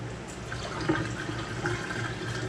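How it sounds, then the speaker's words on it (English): Water runs steadily into a container that is close to overflowing, a continuous close trickle and splash with faint dripping and no talk over it. "That's plenty of water. It's gonna overflow it."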